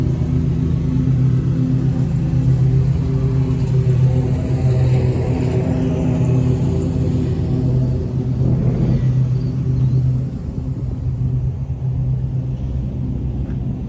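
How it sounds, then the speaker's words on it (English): A 2025 Peterbilt 589 day cab truck with a 565 Cummins engine and 13-speed transmission runs steadily, a loud, close, deep droning rumble that holds constant throughout with no talking. "Our high horsepower Cummins."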